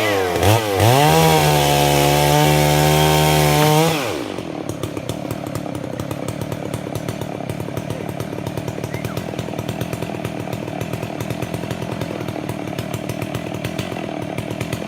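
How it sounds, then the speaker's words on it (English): A loud chainsaw cutting wood revs and whines up close, then drops to a steady rough idle that chugs on for a long stretch. "They hopefully have a chainsaw too."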